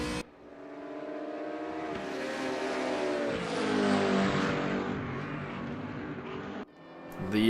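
Race cars roar around the Sonoma circuit, engines revving hard and rising in pitch through a turn. The sound is loud and continuous, with a brief dip near the end before another car surges in close.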